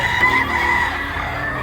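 Crowded chickens and roosters at a small, packed poultry market in Tabunok, Talisay, Cebu, crowing and clucking together in a steady, close barnyard din with no pauses.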